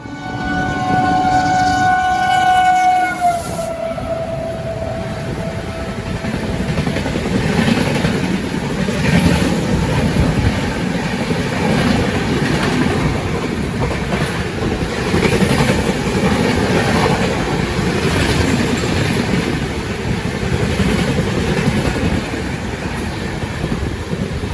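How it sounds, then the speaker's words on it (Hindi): The AP Express passenger train overtakes at high speed on a parallel track. A horn sounds briefly at the start, then a loud, sustained rush of wheels and rail clatter that stays close throughout, with no voices. "जैसे हम पीछे मुड़े तो देखा तेज रफ्तार में एपी एक्सप्रेस हमें ओवरटेक करने आ रही है।"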